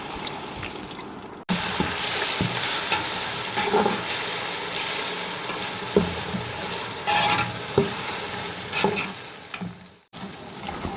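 Five tablespoons of ginger garlic paste sautéing with browned onions in a large biryani pot, loud steady frying hiss with repeated scraping stir strokes and occasional bubbling splutters, ending abruptly.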